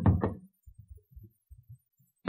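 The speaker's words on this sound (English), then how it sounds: "I knocked vigorously on the door marked private." Vigorous knocking on a door marked private: a loud, close pair of raps opens the clip, followed by a scatter of faint, low, dull thumps with quiet gaps between them.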